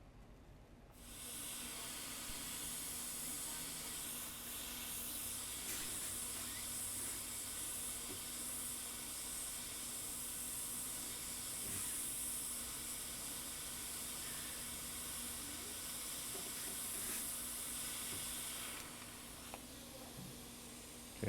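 A hot air rework tool hisses steadily and evenly while heating a connector on an iPad mini 4 circuit board during repair, starting abruptly and continuing close and loud for about twenty seconds before cutting off.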